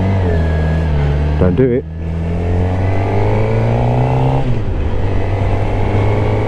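A 2016 Suzuki GSX-R750 sportbike pulls hard in second gear in A mode, its engine note rising loud and close, dipping briefly at a gear change before climbing again, with a voice speaking over it.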